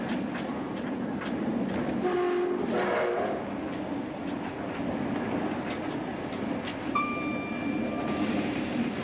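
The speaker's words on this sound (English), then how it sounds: "driving a train at 125 miles an hour" A British Rail train rumbles steadily at 125 miles an hour, a constant loud roar with faint squeals and a brief high whistle-like tone near the end.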